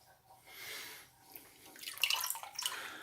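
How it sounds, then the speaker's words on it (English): Cold tap water runs and splashes as blanched carrots are drained and rinsed, a faint, uneven trickle that grows brighter and louder toward the end. "I've just rinsed them under a cold tap to cool them down"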